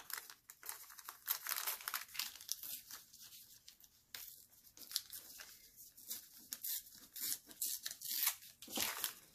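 Packaging paper is torn and crinkled by hand to shape a junk journal pocket, with quiet, close ripping strokes and crumpling rustles coming in irregular bursts throughout.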